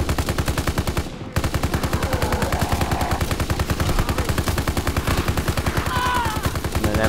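Light machine gun in the COD: WWII Zombies video game firing rapidly and continuously, a loud dense stream of shots broken by one brief gap near the start.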